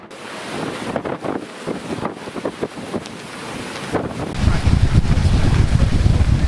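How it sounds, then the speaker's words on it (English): Wind gusts buffet the microphone on open water off the coast of Maine aboard the windjammer Mary Day, with creaks and knocks of the boat, growing into a steady roar of wind and waves. "It is windy today off the coast of Maine."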